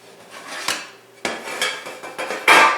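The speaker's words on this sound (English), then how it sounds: "Let's remove the lid." A metal lid lifted off a bread pan just out of a 435°F oven, giving a few sharp clanks and scrapes of metal on metal, close and fairly loud, with no talking.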